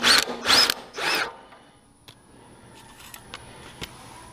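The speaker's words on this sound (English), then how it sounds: "let's go ahead and remove the nut for the transmission pulley. It's a 7/8 of an inch nut." A power tool loosens a 7/8-inch transmission pulley nut on a Troy-Bilt Super Bronco tiller, giving three short, loud whirring bursts up close, then quiet clicks and faint shop noise.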